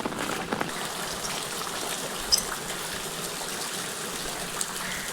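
Floodwater from heavy rain in Amreli district rushes through a village, a steady broadband wash of flowing water with faint patter and a few brief splashes, continuous and fairly close, with no voices.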